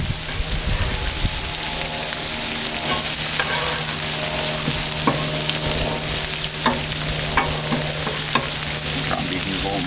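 Steak and bacon fry on a Blackstone griddle with a steady, close sizzle, and metal spatula scrapes and taps land at irregular moments throughout. No one speaks.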